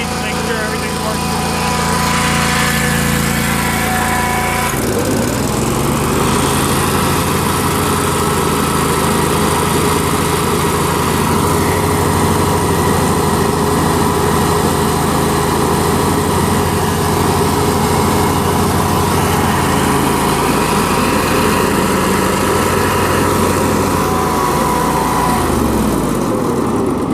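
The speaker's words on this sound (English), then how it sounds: "So I'm going to engage the blades, make sure everything's working." A Ferris 52-inch zero-turn mower engine runs steadily up close, then the blades engage with a sudden drop and recovery in pitch, followed by a loud, buzzing, vibrating drone that holds until it winds down near the end.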